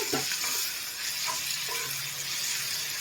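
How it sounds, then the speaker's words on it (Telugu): Chopped onions frying in a pan for poori curry, a steady close hiss of sizzling oil broken by a few soft clinks and stirring scrapes. "చూడండి, చక్కగా ఆనియన్ కుక్ అయిపోయింది."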